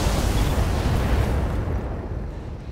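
BattleTech mechs unloading their weapons at full power: a dense, roaring barrage of blasts that fills the opening seconds, then fades into a rumbling tail.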